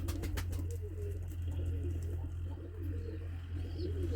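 Old-blood breed pigeons in Ankara coo softly in low, throaty murmurs over a steady hum, with a few faint clicks early on.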